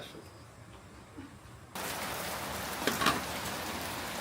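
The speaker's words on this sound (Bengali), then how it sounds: "ভিতরে হবেন, বৃষ্টি হয়ে পড়ছে।" Steady rain starts abruptly partway through and keeps up as a dense, even hiss of drops on surfaces close by, with a few louder spatters and no talk.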